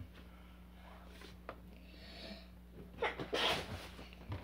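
A person sneezes indoors while opening a trading card collection box, a short sharp nasal burst near the end over a quiet hum, with a smaller snort-like breath just before it.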